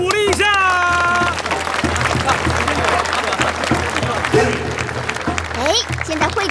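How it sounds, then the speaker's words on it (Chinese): An audience applauds students of an academy at a large martial-arts and alchemy gathering, a dense, steady wash of clapping that runs throughout beneath an announcer's voice. "掌声再次鼓励一下！"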